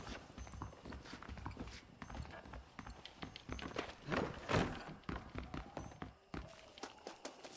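Horse galloping in the video game Red Dead Redemption, a rapid, close run of hoof clip-clops with uneven thuds throughout.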